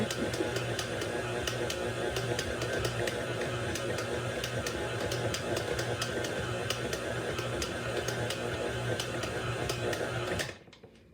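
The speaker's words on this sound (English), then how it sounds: "I'm going to turn my mixer up just a little bit. It's working real hard." An electric kitchen mixer runs hard at a raised speed, a dense steady whirring drone with fast ticking, holding for about ten seconds before cutting off abruptly.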